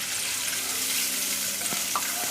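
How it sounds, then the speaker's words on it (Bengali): Water splashes into a hot pan of browned frying onions, a broad steady hiss and sizzle with a couple of faint clinks near the end. "পেঁয়াজটা আমার লালচা হয়ে গেছে, তো এটার মধ্যে আমি সামান্য একটু পানি দিয়ে দিলাম।"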